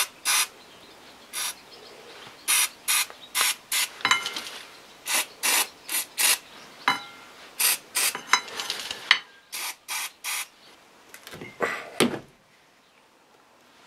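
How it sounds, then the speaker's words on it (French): A wrench loosening a bolt to remove the carburetor from a Husqvarna YTH150 riding mower, with a long series of rhythmic ratcheting clicks and rasping turns, close and clear, tapering off at the end. "Bon, il fallait forcer un petit peu, mais hop, ça se dévisse."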